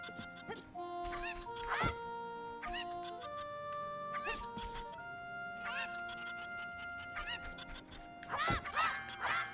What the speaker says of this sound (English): There's definitely, like, a chicken in that box.